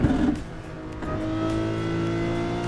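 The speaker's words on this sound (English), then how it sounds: "This Lamborghini sounds so good." A Lamborghini engine in a driving simulator game revs up with a smooth rising whine, holding a steady loud drone after a brief throttle blip, close and without talk.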